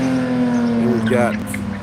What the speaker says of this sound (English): the Goodyear Porsche, trying to get the last little bit of heat in those tires